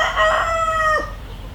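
A farm rooster crows once nearby, a loud drawn-out cock-a-doodle-doo that drops off sharply at the end, with no other sounds around it.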